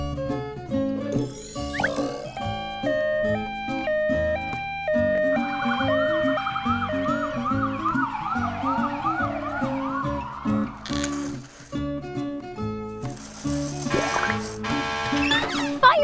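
An ambulance siren wails in a rising and falling pattern, blended into a cheerful children's learning song with chimes and synth music.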